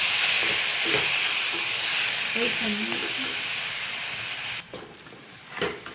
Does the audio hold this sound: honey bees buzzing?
no